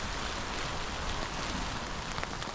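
Steady rain falls hard and close on a lakeside shelter during a windy canoe trip in northwestern country, a dense continuous hiss with no voices.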